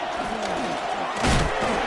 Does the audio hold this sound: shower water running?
no